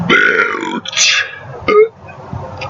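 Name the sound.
burp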